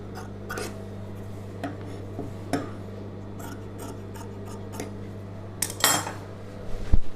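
Scissors snipping through chudidhar fabric, a few separate crisp cuts spaced out over a low steady hum, with some rustling and a louder clatter at the end.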